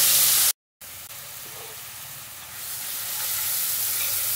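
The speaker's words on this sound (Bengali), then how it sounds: "আমি ফোড়ন হিসাবে শুধু একখানা লঙ্কা একটু ফাটিয়ে দিয়েছি, দিয়ে দেবো পেঁয়াজগুলো।" Chopped onions sizzle in hot oil with a cracked chili, a steady close frying hiss that briefly cuts out, then swells louder as the pan heats, with no talking.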